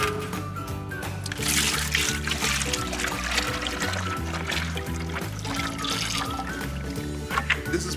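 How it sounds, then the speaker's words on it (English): Part B of a polyaspartic floor coating is poured steadily into a bucket, a continuous liquid trickle heard under loud rhythmic background music for the whole stretch. "we're gonna pour it in the bucket, B first, A on top"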